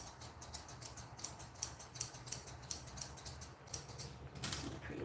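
Grooming scissors snip steadily through a Coton de Tulear dog's coat, a close, rhythmic run of crisp metallic cuts roughly three or four per second with no talking.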